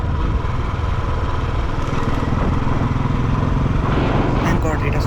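A 2016 Royal Enfield Bullet Standard 350 single-cylinder motorcycle riding on wet, curvy roads, its engine a steady close thump with wind rush throughout, no break in the sound.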